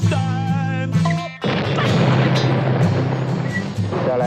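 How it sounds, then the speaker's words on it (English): A big explosion sound effect in a comedy album track, a loud broadband boom and rumble bursting in after a sung passage and roaring on for several seconds before music returns. "Sound like a big explosion."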